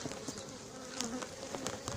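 Honey bee swarm being collected in Le Mée-sur-Seine, droning in a steady close buzz with brief louder passes of individual bees near the microphone, no talk.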